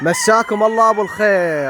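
A black-and-white rooster lets out a short, strained crow at close range, loud and brief, with someone speaking a quick greeting around it.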